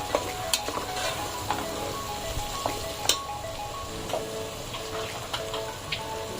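Mixed vegetables with garam masala stir-fried in a pan for a traditional Bhogi bhaji: steady close sizzling with repeated spatula scrapes and clicks against the pan, no voices.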